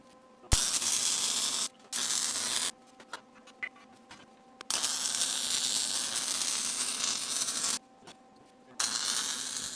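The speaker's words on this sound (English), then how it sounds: "Tack it in place, square it up, and weld it solid." Welding on a 4x4 square steel tube with 1/4-inch wall for a leg vise: several bursts of loud, steady hiss and crackle, each lasting a second to a few seconds, separated by short quiet pauses.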